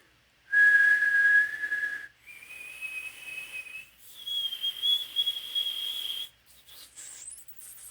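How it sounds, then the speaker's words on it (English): A person whistles a series of clear, sustained high notes, each stepping a little higher than the last, with brief gaps between them and no talking. "I will whistle for a moment and you'll see a high frequency up here."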